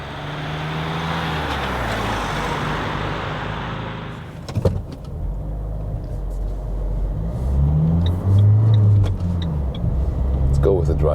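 Fiat Talento combi minibus with a 1.6-litre 145 hp twin-turbo diesel, loud steady engine and road noise from inside the cabin, easing briefly before building again with the engine pulling, while someone talks over it.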